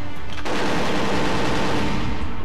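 Rapid automatic fire from the RCP-120 submachine gun in the video game Perfect Dark, a dense, continuous rattling burst that starts after a brief moment and runs steadily to the end, loud and close with no talk.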